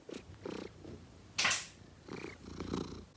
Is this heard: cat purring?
yes